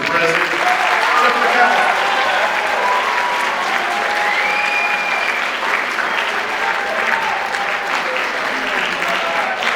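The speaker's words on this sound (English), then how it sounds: "And one more round of applause for our band Mr. President" Full, steady audience applause at a school bands awards concert, continuous and fairly loud throughout with a slight swell at the start, honoring the school band.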